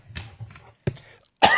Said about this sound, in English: As soon as I think about it, it starts coughing.